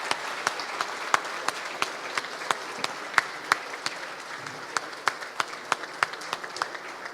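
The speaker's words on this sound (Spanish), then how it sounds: "lo despedimos con aplauso" An auditorium audience at a university lecture claps steadily, a dense even wash of applause with some sharper individual claps standing out.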